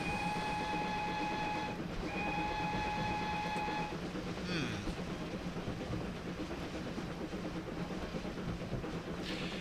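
GWR 48/14/58xx steam locomotive in Train Simulator 2016, a steady rhythmic chuffing and rolling rumble running continuously, with a sustained whistle-like tone near the start, no voices.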